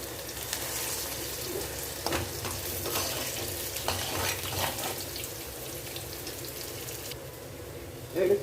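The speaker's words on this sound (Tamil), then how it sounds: "இப்போ பாருங்கள், பாவக்காய்லாம் நல்லா பொரிஞ்சு வெள்ளாட்டு." Bitter gourd pieces frying in ghee, heard as a loud, continuous sizzle with intermittent stirring scrapes, close by, and a brief bump near the end.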